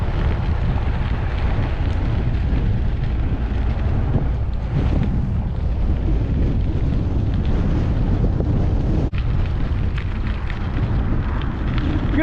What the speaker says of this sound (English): Well, we got a headwind now.